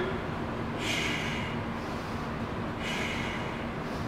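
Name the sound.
exhaling during a shoulder press exercise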